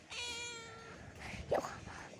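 A cat gives one drawn-out, wavering meow at the start, fairly close, followed by a fainter trailing cry and some handling noise.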